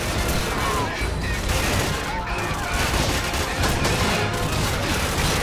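Dense gunfire from Call of Duty 4: Modern Warfare, with repeated shotgun blasts among a continuous loud fusillade of shots and explosions, dense and close throughout with no pauses.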